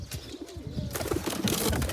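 A pigeon coos close by in soft, throaty bursts, with light rustling and bird movement around it.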